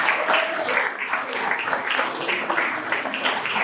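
Dinner crowd at a Garland City teacher appreciation awards event applauds steadily, a dense wash of many hands clapping at moderate volume for several seconds with no pauses.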